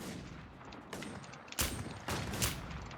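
Several sharp gunshots crack out in the online survival shooter WarZ, spaced apart with a couple of louder, close reports standing out from quieter, more distant shots.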